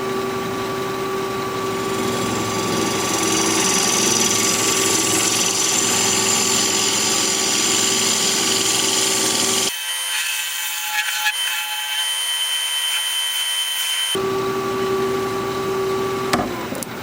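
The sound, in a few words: wood lathe turning a piece of wood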